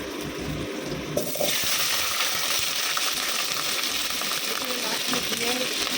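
Chopped onion, capsicum and whole green chillies hit hot oil, and a faint background suddenly swells into a bright, steady sizzle that keeps crackling close by.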